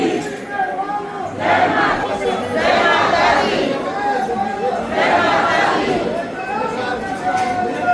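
A dense crowd of pilgrims waiting at a security check at the Vaishno Devi shrine chatters all around, many voices blending into a loud, continuous babble that swells and ebbs.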